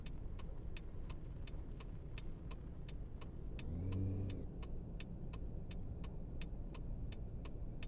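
Car traffic in the city driving simulator Taxi Life, a steady engine drone with a vehicle swelling past in the middle, overlaid by an evenly spaced ticking like a turn signal.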